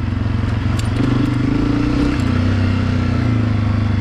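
A Honda CRF250F dirt bike ridden on a trail, its engine droning loud and continuous at a steady throttle with a gritty, pulsing low rumble, up close throughout.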